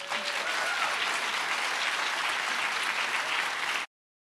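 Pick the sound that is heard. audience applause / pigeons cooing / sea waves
audience applause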